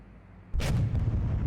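A battleship's heavy gun fires once in the naval game War on the Sea, loud and sudden after a quiet stretch, and a rolling rumble lingers after the blast.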